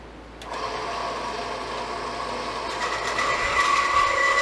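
A bandsaw starts up and runs through its first cut on parts for a slow-speed grinder base, a steady close mechanical hum and whir that grows slightly louder over a few seconds, with wind noise in the background.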